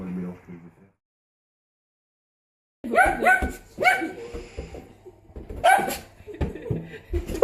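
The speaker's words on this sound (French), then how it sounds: "pauvre petit chien" A small dog barks in a home setting, several sharp yapping barks in clusters after a stretch of silence, close and fairly loud, with some voices heard briefly at the start.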